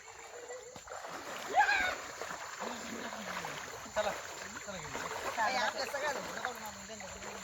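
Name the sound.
wading through knee-deep flooded river water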